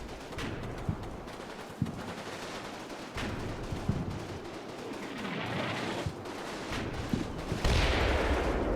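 Sustained gunfire and explosions in a video game battle hit an American squad as it crests a rise, with dense overlapping shots, sharp individual cracks and heavy rumbling blasts continuing throughout at high intensity.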